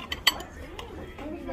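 Candy and frosting mixed in a dish, a couple of sharp utensil clinks against the dish followed by soft scraping, with a voice faintly present.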